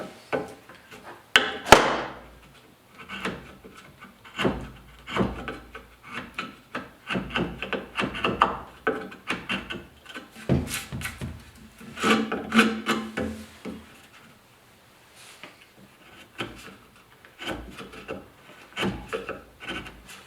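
A sharp wood chisel scraping and paring the edges of a rustic wooden picture frame, repeated close rasping strokes in irregular bursts with short pauses between them.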